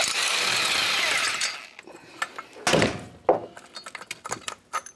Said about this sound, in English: I like using an impact. Impacts always work the best.